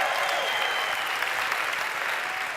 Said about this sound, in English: we should all give her a big round of applause